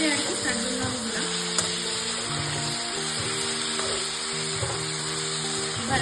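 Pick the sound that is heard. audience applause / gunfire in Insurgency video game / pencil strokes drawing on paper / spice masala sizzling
spice masala sizzling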